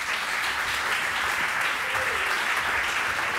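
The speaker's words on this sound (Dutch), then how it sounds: "Een warm applaus." Warm audience applause at a live podcast discussion event about the legacy of the AIDS epidemic, a dense, even wash of many hands clapping steadily for the whole stretch with no voices.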